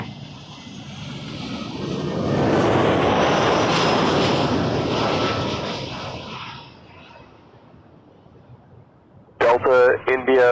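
An Airbus A320 airliner passes overhead on landing at Toronto Pearson, its broadband jet roar swelling to a loud peak, then fading to a low rumble before a radio voice cuts in at the end.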